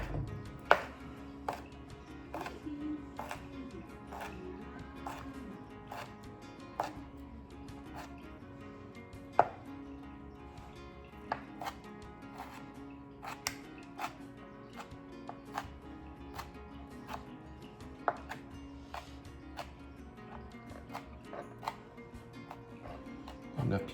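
A knife dices a serrano pepper on a cutting board for breakfast burritos, giving a long run of crisp rapid chops in an uneven rhythm, close and fairly clear over a low steady hum.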